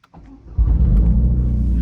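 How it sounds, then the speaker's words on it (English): Toyota GR Yaris engine firing up into a loud, steady low rumble after a few faint clicks, close by and alone. "This car sounds insane, I tell you guys."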